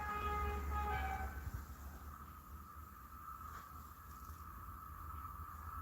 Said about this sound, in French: Et là, je vois qu'il y a un train.